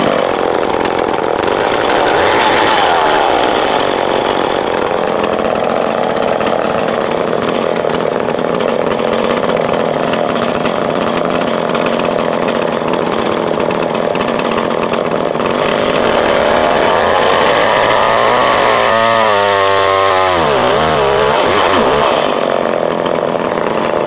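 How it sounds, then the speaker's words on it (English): A chainsaw runs continuously at close range, its loud engine whine rising and bogging as it bites into burl wood for a table base, with the pitch wavering near the end. "if I come at it with a chainsaw this way"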